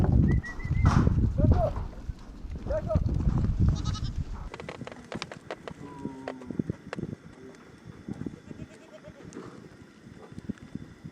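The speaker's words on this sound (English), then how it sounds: "Then the wife Doma uses wool ropes to tie dozens of goats together." Dozens of goats tied together with wool ropes by Tibetan herders bleat several times, loud and close at first, then fainter calls scatter amid rustling and clattering as the herd mills about.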